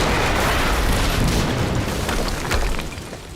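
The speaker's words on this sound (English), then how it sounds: "HQ, we just heard an explosion near the harvesting perimeter." An explosion in the video game Quantum Break, a loud, dense boom with rumbling low end that fills the whole clip and tapers slightly toward the end, with no voices over it.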